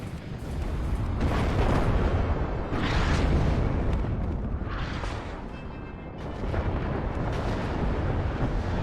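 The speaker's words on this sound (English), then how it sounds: "Probably some artillery gonna come in on me." Artillery shelling in the WARNO real-time strategy game: dense, continuous rumbling explosions and booms roll together at steady loudness through the whole stretch, with no talk.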